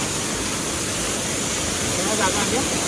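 A dense, steady roar of the Papti waterfall in a forest fills the scene, close and unbroken from start to finish.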